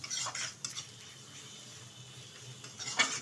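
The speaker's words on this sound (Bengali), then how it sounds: "একটু ভালোভাবে নেড়ে চেড়ে নেব আবারও" Goat fat being stirred in a pan with meat masala and ground cumin: a few scraping utensil strokes against metal near the start and end, with a faint sizzle in between.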